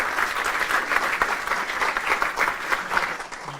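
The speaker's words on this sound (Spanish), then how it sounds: "despedimos a Juan con un fuerte aplauso" Steady applause from a workshop audience at a tech conference, a dense sustained patter of many hands clapping at moderate loudness with no talk over it.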